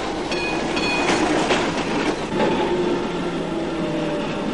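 Tram pulling into a stop in 1920s Buenos Aires, steady rumbling rail noise with wheel clatter and faint squealing tones, close and continuous with no talking.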